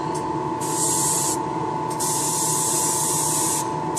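Spray paint hisses out in short and longer bursts as a thin coat goes onto a piece, close and loud with brief gaps between presses of the nozzle.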